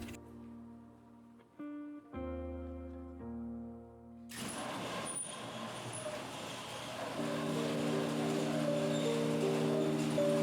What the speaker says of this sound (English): I'm just going to pull in the car into the shop, into that little space right there.